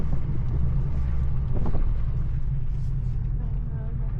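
A straight-piped sixth-generation Camaro SS with an LT1 V8 rumbles deep and loud at low speed as it pulls up, a steady heavy exhaust drone close by with talking over it.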